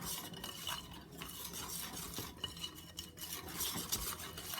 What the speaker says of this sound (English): continue whisking until it's well incorporated and you don't see any lumps